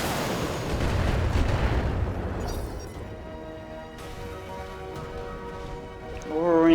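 Heavy weapon fire and explosive booms from a mech targeting a laser turret in the BattleTech video game, loud and rumbling at first, then settling into ringing tonal game sounds with a rising whoosh at the end.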